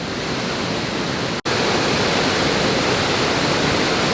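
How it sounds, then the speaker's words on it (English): Waterfall in Sunnyhurst Woods during floods, a loud unbroken roar of rushing water with one brief dropout partway through. "just the waterfall on a different angle in sunnyhurst woods"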